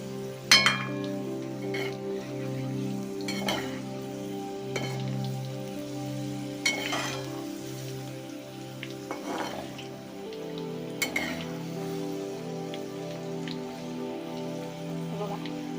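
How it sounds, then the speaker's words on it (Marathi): Green chillies frying in hot oil in a pan while stirred, a continuous crackling sizzle punctuated by repeated spoon-on-pan clinks, close and moderately loud over steady background hum. "सारखं इकडून तिकडून हलवून घ्यायचं म्हणजे आपल्या ज्या मिरच्या आहेत त्या व्यवस्थित भाजतील"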